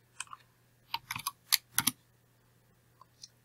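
Several sharp key presses on a computer keyboard, typed while editing in Photoshop: a quick cluster of crisp clicks, then a couple of isolated taps, close and fairly quiet with no talk.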